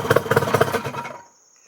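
1982 Evinrude 35HP outboard engine catching on a start attempt, a short burst of rapid, close, loud firing pulses that quickly fade out into near silence.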